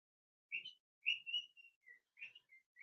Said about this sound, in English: Can you guys hear my birds?